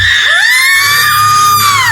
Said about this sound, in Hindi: आत्मा एक आखिरी दर्द भरी चीख के साथ गायब हो गई